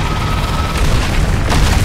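A cannon being destroyed in World of Warcraft, a loud, sustained booming explosion with deep low rumble and a fresh burst near the end.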